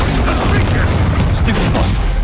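Bombarda explosion spell in Hogwarts Legacy on PS5, a deep booming blast within continuous loud combat noise, rumbling low and close, with voices calling out over the fighting.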